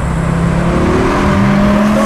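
Dodge Viper sports car sliding through a turn without stability control, its engine droning steadily and rising in pitch, loud and close throughout with no voices.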